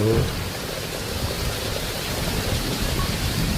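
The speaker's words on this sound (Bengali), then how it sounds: "দেখো গাছপালা সব হাওয়ায় হচ্ছে, বিদ্যুৎ চমকাচ্ছে, প্রচণ্ড বৃষ্টি হচ্ছে" A heavy nor'wester storm at Deganga, with dense, loud rain and wind roaring as a steady broadband wash. It stays unbroken from start to finish, with a faint low murmur at the very start.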